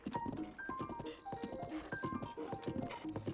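Horse hooves clip-clopping in Zelda: Breath of the Wild, a steady rhythmic trot of hoofbeats close by with game music tones over it.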